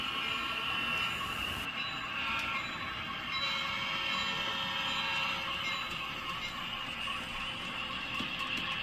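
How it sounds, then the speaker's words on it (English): A maintenance-of-way train led by an ex-Boston and Maine GP9 locomotive rolls steadily past with a continuous heavy rumble and metallic clatter, no voices, holding at a fairly even loudness throughout. "we have an MOW train coming by"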